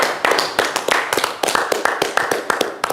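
Audience applause in a TV studio: dense, close hand clapping with sharp individual claps, sustained evenly across the whole stretch.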